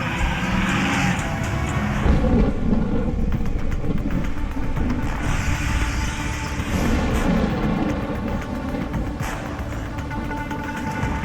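Thunderstorm in a disaster action film, a steady dense roar of rain and rumbling thunder filling the whole stretch, loud and unbroken with no voices.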